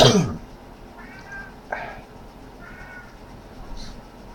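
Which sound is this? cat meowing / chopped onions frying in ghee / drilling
cat meowing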